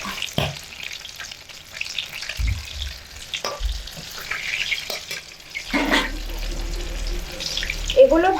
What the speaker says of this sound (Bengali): অল্প অল্প করে ভাজলে পিঠেটা ভালোভাবে ভাজা হবে